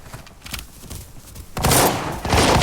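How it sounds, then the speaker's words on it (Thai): Gunfire in the video game Arena Breakout starts after a quieter stretch as a loud, sustained burst of close shots, with a brief dip before it continues. "พี่โดนยิง"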